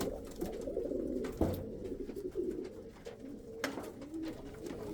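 Chinese owl pigeons coo in a breeding loft, with soft, low, rolling coos repeating steadily and close, plus a couple of brief rustling knocks.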